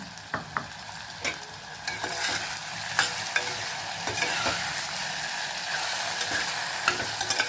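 Onions fry in oil with a pinch of salt, curry leaves and prawns for a radish and prawn curry, making a steady close sizzle. A few sharp spatula taps come early, and the hiss thickens and stays even, with no voices.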